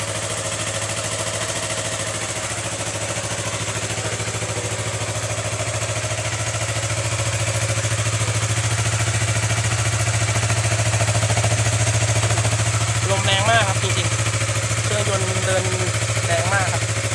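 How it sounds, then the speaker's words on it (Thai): A Yamaha YZF-R3 motorcycle engine idles with a steady low hum that rises slightly partway through, while someone talks over it. "นี่เสียงเครื่องยนต์ของ R3"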